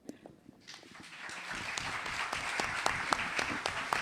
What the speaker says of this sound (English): If we could give another round of applause for our first round of authors.